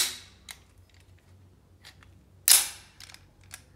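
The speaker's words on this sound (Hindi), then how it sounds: "हैम्बर पीछे खींच दिया है अभी स्लाइडर खींचेंगे" TT 30 bore pistol with a hammer and trigger fault having its slide racked: a few sharp metallic clicks and one louder snapping clack, close and dry, no talk.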